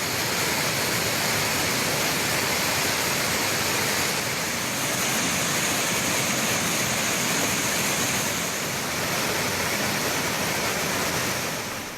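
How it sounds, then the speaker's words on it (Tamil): Floodwater thunders continuously over Thirparappu waterfall on the swollen Kodayar river after heavy rain, a loud, steady broadband roar that never lets up. "திருப்பரப்பு அருவியில் தண்ணீர் ஆர்ப்பரித்துச்"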